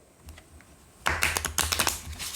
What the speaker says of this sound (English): Let's see how it does with a riffle.